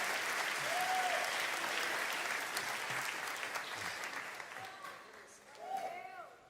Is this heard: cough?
no